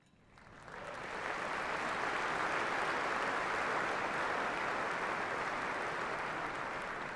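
A luncheon audience at the 2016 AUSA Dwight David Eisenhower Luncheon breaks into applause, swelling within the first second into sustained, dense clapping from a large crowd, fairly faint and distant with no talk over it.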